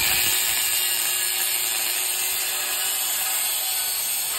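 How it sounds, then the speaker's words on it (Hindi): A stainless steel stock exhaust pipe from a Yamaha FZ160 motorcycle is being cut with a tool, giving a loud, continuous, harsh grinding hiss that holds steady from start to finish with no voices. "सो गाइज फाइनली हमने हमारा एग्जॉस्ट कट कर दिया है"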